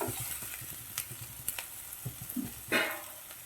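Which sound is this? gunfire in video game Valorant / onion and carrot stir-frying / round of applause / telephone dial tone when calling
onion and carrot stir-frying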